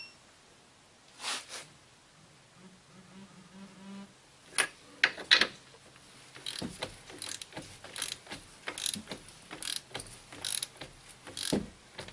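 A ratchet wrench clicks in sharp, repeated bursts as the strut nuts on a 2001 Buick Century are tightened during a CV axle replacement, with a short pause between each run of ratcheting.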